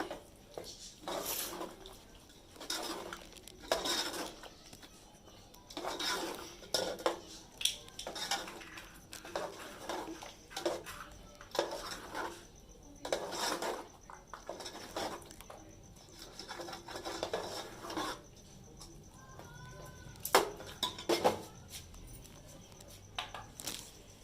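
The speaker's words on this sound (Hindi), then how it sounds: "अब इसके अंदर इसको थोड़ा सा भून लेते हैं, फिर हम इसके अंदर पानी डालेंगे।" Chana dal gosht being stirred and fried in a pot, with repeated scraping and clinking of a spoon against the metal in irregular bursts, fairly faint and close, with no talk over it.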